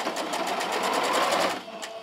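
A sewing machine stitches a patchwork border, running steadily forward then reversing for a backstitch at the start of a seam, with a rapid even needle rhythm that slows and stops near the end.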